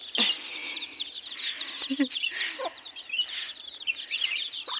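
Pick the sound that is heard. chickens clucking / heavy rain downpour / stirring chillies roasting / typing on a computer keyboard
chickens clucking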